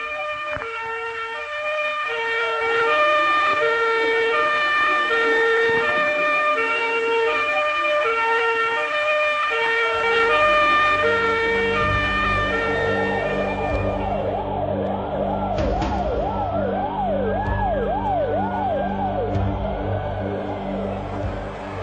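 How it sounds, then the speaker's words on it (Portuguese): A fire truck's siren wails as it arrives, first a rising-and-falling tone over rumbling traffic, then switching to a faster yelping pattern, loud and close throughout. "A chegada do carro dos bombeiros"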